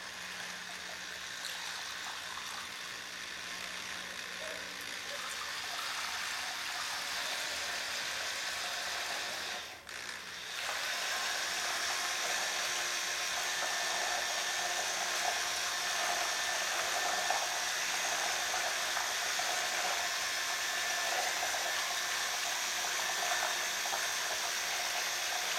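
Steady whirring and churning of Smooth-On alginate mix being stirred in a bucket, continuous and even throughout with a brief dip near the middle, and no talk over it.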